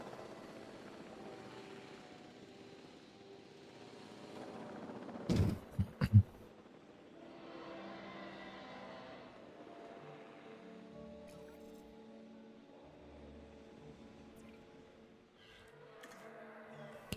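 A helicopter airlift in the video game Jurassic World Evolution: a faint, steady rotor drone plays throughout, with a couple of short, sharp bumps near the middle.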